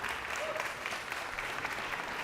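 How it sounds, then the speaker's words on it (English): Steady applause from a city council chamber audience honoring a championship team, a dense continuous wash of clapping throughout with no clear break. "give them all a big round of applause"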